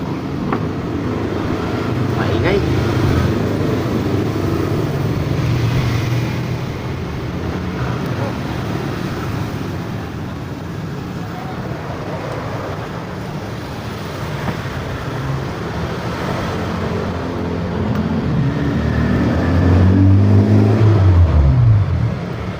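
Loud motorcycle exhausts rumble past on a nearby road, with engine roars swelling and fading over a steady traffic background and a strong low growl near the end.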